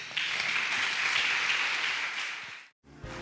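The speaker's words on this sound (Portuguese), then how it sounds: "Vamos aplaudir o Senhor bem forte." A church congregation at a live worship service claps hard and fast in praise, a dense, bright burst of applause that runs steadily and then cuts off abruptly before a brief moment of quiet and faint sound.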